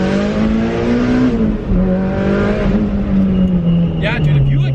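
Nissan R32 Skyline pulling hard in first gear, a loud steady engine roar close inside the cabin with the pitch climbing and easing, while occupants talk over it.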